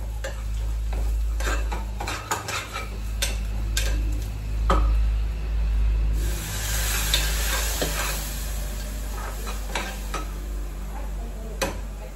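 Masala spices sizzle in hot oil in a home-kitchen pan, a steady crackling fry broken by repeated scrapes and taps of a stirring spoon against the metal, with a rice cooker running nearby.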